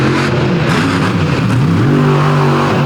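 A monster truck engine roars at a 2022 outlaw monster truck drag race in Canfield, Ohio, revving loud, close and steady with rising and falling pitch and no voices over it.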